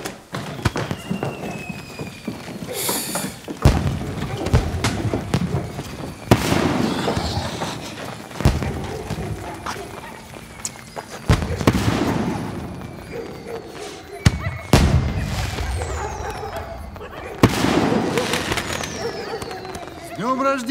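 Fireworks set off in a village, with repeated loud bangs every few seconds, each trailing into crackling and hissing decay, and people talking between the bursts.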